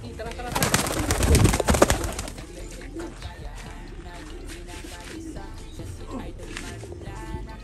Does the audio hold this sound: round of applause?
no